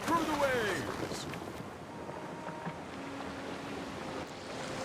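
Ocean waves and wind wash gently in the Anno 117: Pax Romana strategy game, a soft, steady surf that swells briefly at the start and then settles, with a faint tonal whistle near the beginning.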